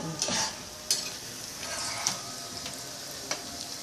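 Colocasia balls bound with batter fry in oil over a low flame, a steady close sizzle with several brief sharp spatters or stirring clinks, no speech.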